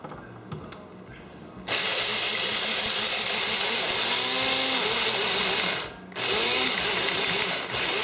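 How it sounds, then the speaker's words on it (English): Coffee grinder milling macaron ingredients finer, a loud steady motor whir that starts abruptly, runs several seconds, briefly cuts out, then resumes close up. "So I'm gonna get my coffee grinder out, which is nice and clean"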